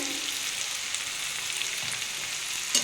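Cauliflower and potato with turmeric, chili powder and salt frying in a pan, giving a steady, close sizzle that ends in one brief scrape.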